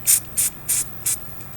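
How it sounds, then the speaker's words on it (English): Four short, sharp hisses of degreaser sprayed onto a toothbrush while cleaning bicycle jockey wheels, evenly spaced and close, with quiet gaps between bursts. "So I'm going to get some degreaser on my toothbrush."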